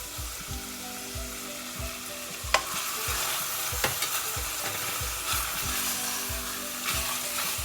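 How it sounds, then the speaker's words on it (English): Meat fries with ginger and garlic in a pot for an Anglo-Indian lamb stew, a steady sizzle broken by repeated rhythmic scraping strokes of a spoon stirring, with a few sharper knocks against the pot. "And give it a good stir."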